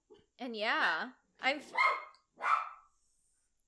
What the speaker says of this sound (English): dog's barking. That's the other guest.